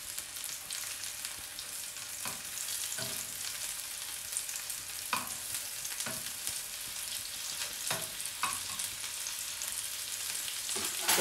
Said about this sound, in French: On les finit à la poêle.